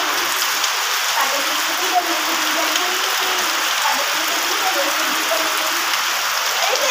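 Steady rain pours down in wet weather, a continuous dense hiss of falling drops that holds evenly from start to finish with no pauses, close and fairly loud.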